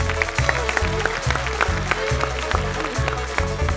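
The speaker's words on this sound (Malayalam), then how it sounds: "നല്ലൊരു ക്ലാപ്പ്." An audience at a children's television show clapping together in a rhythmic beat, a loud, evenly pulsed run of claps from a crowd close by.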